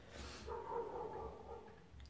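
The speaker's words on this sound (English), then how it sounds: "my dog's barking." A dog barks from somewhere away from the microphone, a short muffled bark or two with a faint whimpering tone, quiet and alone against a low room hum.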